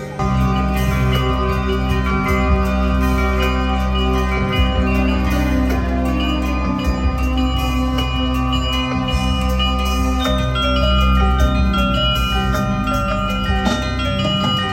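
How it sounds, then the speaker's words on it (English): Bells performing Carol of the Bells during a Christmas evening show at Disney Springs, a steady ringing melody of sustained tones layered over low accompaniment, loud and continuous throughout. "he's doing the Carol of the Bells"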